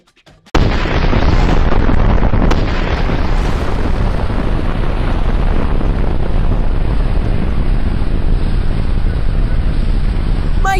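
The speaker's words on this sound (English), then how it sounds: "Look at how gigantic that explosion was, dude!" Huge nuclear bomb blast in Roblox Brookhaven: a sudden booming onset followed by a long, loud rumbling roar that sustains without letting up.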